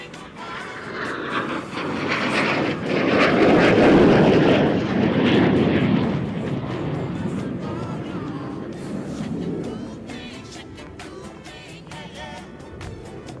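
An F-18 Hornet fighter jet passes at an airshow, its engine roar swelling to a loud, broad rush and then slowly fading into a distant rumble, with an announcer talking over it.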